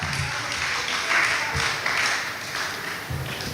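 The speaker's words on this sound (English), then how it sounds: "I want you to clap for that" Crowd at an outdoor political mass rally applauds in a broad, continuous wash of clapping, loud and sustained, with some cheering mixed in across the whole stretch.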